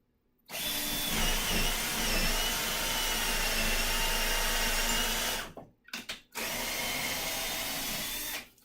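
A power drill fitted with a 3/16 drill bit bores holes in a wall for mounting a flat screen TV, a loud steady whine lasting about five seconds, a short stutter of bursts, then a second sustained run.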